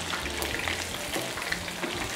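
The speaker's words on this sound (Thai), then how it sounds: "เราก็ทอดจนสุกกรอบเลยนะคะ" Pork belly deep-frying in oil bubbles and crackles nearby, a moderate, steady frying hiss broken by small pops and a low hum, with nobody talking.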